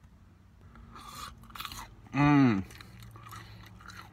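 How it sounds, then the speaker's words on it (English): Close, crisp crunching and chewing on a KFC Nashville hot fried chicken tender, repeated bites in bursts, with a short hummed vocal sound of enjoyment in the middle. "You can hear the crunch, right?"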